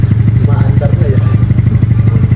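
A motorcycle engine close by runs with a rapid, steady low-pitched putter after starting, loud and continuous, while people talk over it.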